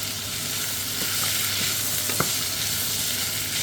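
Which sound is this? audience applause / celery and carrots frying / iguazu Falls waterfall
celery and carrots frying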